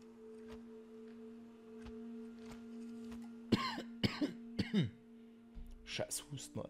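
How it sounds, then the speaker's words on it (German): Several harsh coughs and throat clearing from a person close to the mic, in a short burst after a quiet stretch, over a steady tonal hum from a PS5 game. "Scheiß Husten, Alter."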